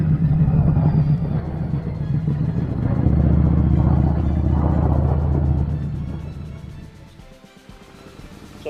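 Motorcycle engine in third gear on a quiet road, a steady low rumble holding close and loud, then easing off toward the end as the throttle drops.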